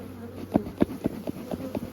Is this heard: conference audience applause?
no